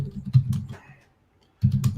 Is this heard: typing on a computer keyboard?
yes